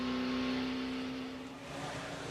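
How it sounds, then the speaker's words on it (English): NASCAR race car at the 2000 Diehard 500 running below full power: a steady, droning engine note with a strong low hum, fairly loud and without talk. "Car doesn't sound like it's at full song, Benny."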